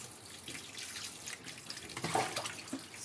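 Tap water runs steadily into a sink while a peeled banana is rinsed for otor mboro, a soft continuous splash with a few brief drips, fairly close and alone.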